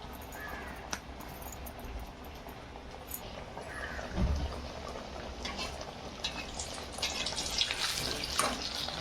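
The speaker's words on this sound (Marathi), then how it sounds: "मंद आचेवर तळायची म्हणजे चांगली कुरकुरीत होते" Sabudana vada frying in hot oil over a low flame, a steady bubbling hiss with crackles and a few louder pops, continuous and close throughout.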